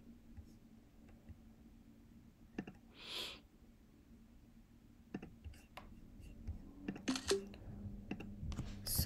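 Code is typed on a computer keyboard in short, scattered bursts of quiet key clicks with pauses between, alongside a soft breathy whisper and faint background hum.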